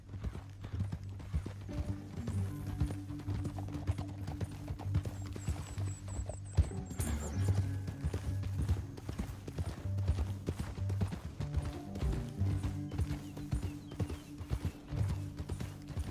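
Steady clip-clop of horse hooves at a trot in Red Dead Redemption 2, with a faint whinny and a low musical drone underneath throughout.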